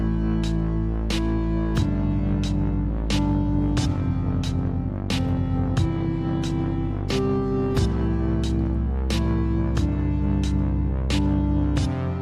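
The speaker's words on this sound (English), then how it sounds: "the lead comes in and echoes the rhythm at a higher pitch" Video game music in which a higher-pitched lead line echoes the rhythm over a bass and chord loop, steady and loud throughout with evenly spaced percussive accents and no talking.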